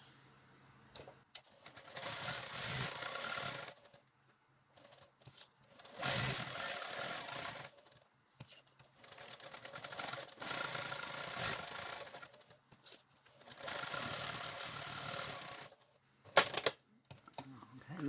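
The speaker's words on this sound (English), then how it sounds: "and we're going to sew around it." A sewing machine stitches around a paper-pieced crazy quilt border piece in several steady bursts of a few seconds each, with short pauses between runs.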